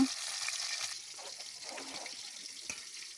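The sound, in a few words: frying tilapia fish in a pan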